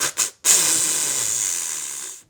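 A voice imitates a buck's snort wheeze call: two quick breathy snorts followed by a long, hissing wheeze, close and loud, alone.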